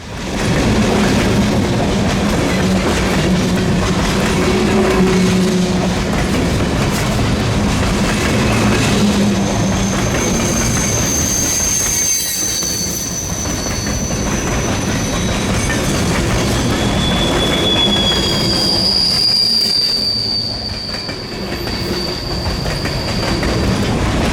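A Reading and Northern freight train rumbles past close by, wheels clattering and squealing on the rails, a continuous heavy roll with no one speaking.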